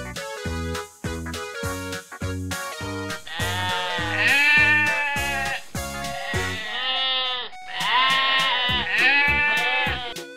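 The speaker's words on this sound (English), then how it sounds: "Goat." A goat bleats loudly and close in a series of short, wavering, nasal cries, some clipped and some drawn out, with brief pauses between calls and no talk.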